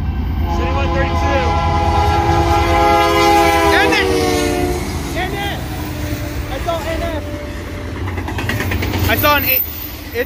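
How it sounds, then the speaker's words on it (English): Union Pacific intermodal train sounding an AC44CW locomotive horn at a railroad crossing, loud sustained chord blasts over rumbling rail noise, with people talking nearby throughout. "that sounds like an AC-44CW horn"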